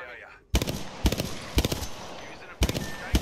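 Automatic gunfire bursts in the video game Apex Legends, loud and close, arriving in short rapid volleys about every half second after a brief quiet start.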